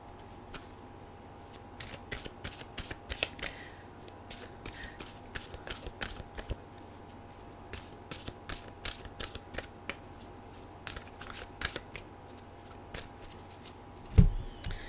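Tarot mantra cards being shuffled by hand, a long series of quick papery riffles and flicks in irregular bursts, close and fairly quiet, ending with a thump.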